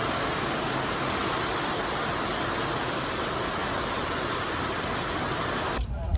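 Heavy rain falls without pause at Kollem railway station, a loud, broad wash of hissing water that carries on evenly before a short knock at the end.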